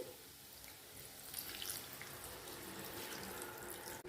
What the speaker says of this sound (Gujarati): હવે આપણે શાકની અંદર પાણી એડ કરીશું